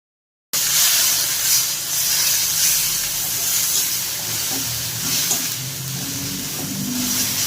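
Onion sizzling in hot oil with ginger garlic paste for a spicy Bengali tangra fish curry, a steady loud hiss and crackle running throughout with faint stirring underneath, no talking.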